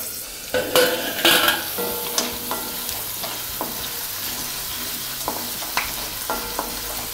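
Green peas fry in a pan for an eggplant and pea curry while a spoon stirs them, giving soft sizzling under a few sharp scraping strokes near the start and lighter occasional scrapes afterward.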